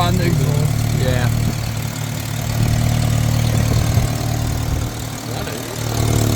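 A car engine with an exhaust leak runs steadily up close, a loud, rough, low droning idle with ticking overtones, while people talk over it.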